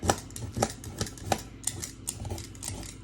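A knife chops potatoes into pieces on a board, a quiet run of close, sharp taps about every half second that become quicker and lighter toward the end.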